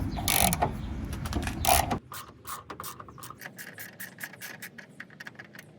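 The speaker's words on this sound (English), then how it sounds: "So use a 10mm socket and wrench to remove the bolt." A 10mm socket wrench loosens a grille bolt on a Hummer H3, heard as a burst of loud scraping followed by a rapid, fairly close run of ratchet clicks.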